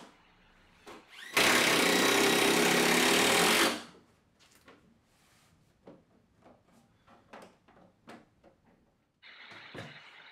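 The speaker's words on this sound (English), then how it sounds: "To secure the cabinet to the wall, I just used some screws through the back panel and into the studs." A power drill drives screws through a hand tool cabinet's back panel into wall studs. One loud, steady whir lasts about two seconds, then a run of light knocks and clatter follows, and a shorter, fainter whir comes at the end.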